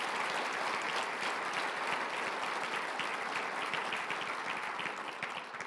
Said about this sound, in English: Please give a round of applause to all of our veterans and active service members.